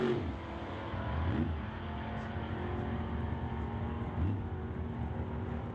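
Two drag cars launching side by side, a '56 Chevy against a Chevelle wagon, their engines a steady, fairly distant roar with a couple of brief surges as they pull down the strip.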